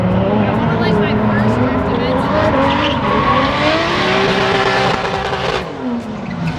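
At a grassroots drifting event, a drift car slides sideways with squealing tires and a roaring engine, loud and continuous, while a person talks over the noise.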